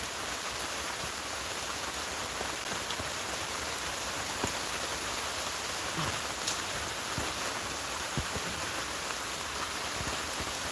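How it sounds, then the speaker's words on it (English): Heavy rain falls steadily in a dense, continuous hiss, with occasional louder drops and drips landing close by. "Love the rain."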